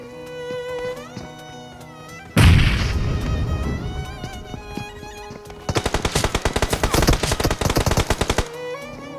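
Gunfire in a competitive shooter video game: a heavy burst of shots rings out, then a long run of rapid, evenly spaced automatic fire crackles loud and close for several seconds.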